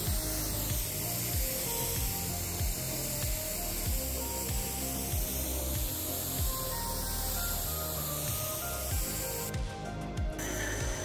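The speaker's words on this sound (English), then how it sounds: "The water's running right off." Water sprays steadily over a car coated with Meguiar's M888 ceramic coating during a rinse, a constant close hiss with no talking.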